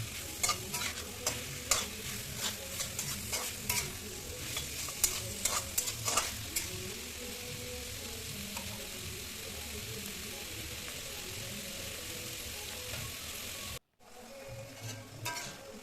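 Chicken pieces sizzle and fry in a pan for a home-cooked chicken and mustard greens dish, with steady scraping stirs and clinks of a spoon throughout and low voices or background noise beneath, ending abruptly near the close.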